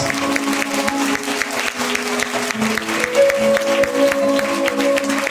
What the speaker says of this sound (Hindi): जोरदार ताली बजाओ इसकी महिमा के लिए।